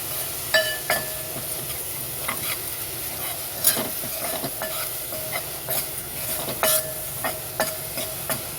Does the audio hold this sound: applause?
no